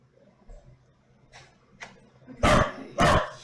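Pet dog indoors giving two loud, sharp barks near the end, preceded by a few fainter yips and whimpers against a quiet room.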